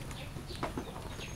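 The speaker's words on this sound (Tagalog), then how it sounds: "Ito pa yung ibang manok, oh." Chickens cluck softly around a rural farmyard in a Pangasinan village, a few faint, scattered clucks rising over steady low background noise.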